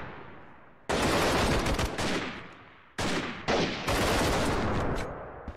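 Gunfire in the video game Freeman Guerrilla Warfare comes as loud, close bursts of automatic fire in several long strings separated by brief pauses.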